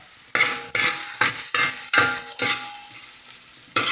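Tomatoes frying and sizzling in a pan while being stirred steadily with a spoon for a chicken curry, with repeated scraping strokes at a fairly close, even rhythm.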